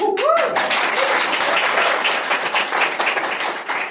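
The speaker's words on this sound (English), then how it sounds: "you clap as if I did something to get that" Members at an AA share meeting in a rehab applaud a nine-year sobriety milestone, with dense, steady clapping from the room that follows a brief voice at the start.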